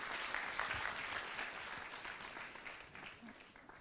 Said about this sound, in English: A huge round of applause for the team